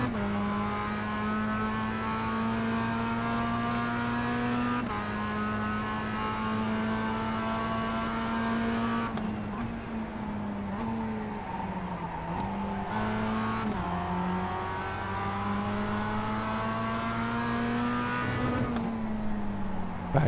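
A Mazda MX-5 Cup race car engine drones and revs in iRacing at Okayama, with pitch climbing through each gear and dropping at shifts, including one bad gear change, loud and steady with no talk.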